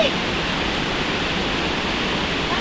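A waterfall at Napane Sherpe roars as a dense, constant wash of falling water, loud and unbroken for the whole stretch, with no clear voices on top.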